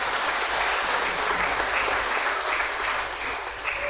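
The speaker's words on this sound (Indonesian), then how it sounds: "Tepuk tangan buat Tuhan Yesus." Church congregation at a Toraja Sunday worship service in Jakarta breaks into sustained, dense applause, a steady wash of many hands clapping throughout.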